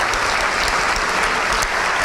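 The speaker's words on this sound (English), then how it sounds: "Big round of applause for that table in attendance tonight." An audience at a volunteer awards evening applauds a table of attending dignitaries, a short, dense, steady wash of clapping.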